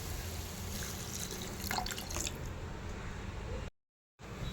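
Water poured onto tomatoes and tamarind cooking in a pot while making mint chutney, a steady close splashing and trickling that runs for several seconds before cutting out briefly.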